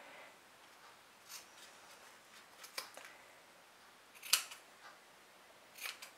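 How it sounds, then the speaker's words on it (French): Scissors snip through a piece of zipper while sewing a document holder, giving a few short, quiet cuts spread out with one sharper snip near the middle. "je découpe un morceau de zip"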